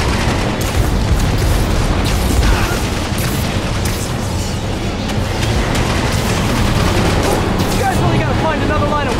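Dense gunfire and booming blasts in the video game Marvel's Spider-Man, a loud continuous barrage of shots and impacts mixed with game sounds and some voices.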